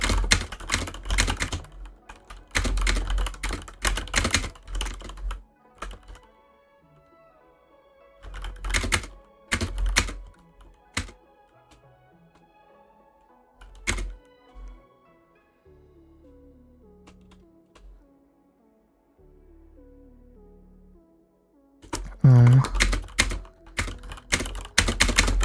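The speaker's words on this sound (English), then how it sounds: "I'm just typing to Bag" Computer keyboard typing, fast clattering bursts of keystrokes separated by pauses, close and clear, with a soft tonal bed underneath during the quieter stretch and no talking.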